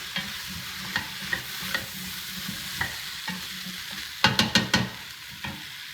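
Potatoes, jalapeno and vegetables sautéing in a pot for turkey meatball soup: a steady sizzle with repeated stirring scrapes and a quick burst of spoon clatter near the end, close and clear with no talking.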